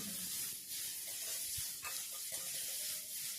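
Chopped onion sizzles in a pan with bitter gourd and potato while being gently stirred, a steady soft frying hiss with faint scraping stirs, no voices.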